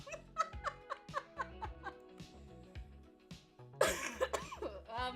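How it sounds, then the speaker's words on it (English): Harsh, close coughing in a series of short bursts, with a wheezy, laugh-like rhythm and a heavier rasping hack partway through. "I'm so sorry for the ugly coughing"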